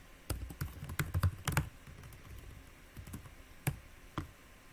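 Keys clicking on a computer keyboard as code is typed during a programming session, scattered bursts of quick taps and a few isolated keystrokes, close and fairly quiet.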